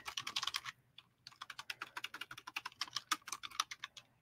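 Rapid, irregular clicks of typing on a computer keyboard, close and fairly quiet, with a brief pause before the keystrokes resume in quick bursts.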